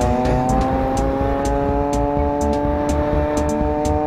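A homemade moped engine running steadily at a constant idle-like drone, close and fairly loud, with faint periodic ticks above the hum and no voices.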